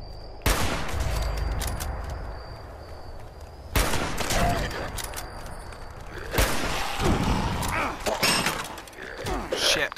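Shotgun blasts crack through a fight in Fallout 76, with several sharp, loud reports separated by a few seconds and a clatter of action and impacts between them. A voice talks over the shooting.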